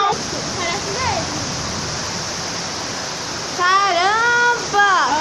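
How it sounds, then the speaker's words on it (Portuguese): Heavy rain floodwater rushing through a street in a downpour, a loud continuous roar with people talking excitedly over it. "Caramba, tá muita água aqui fora."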